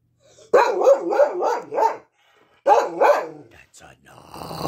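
A dog inside an ambulance converted into a living space barks in a quick run of four loud, close yips, pauses, then barks twice more before some rustling noise.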